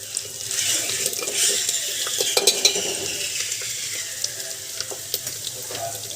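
Garlic, ginger and green chili paste sizzles steadily in a hot pan for soyabean and pea curry, a constant bright frying hiss with occasional scraping and stirring clicks throughout.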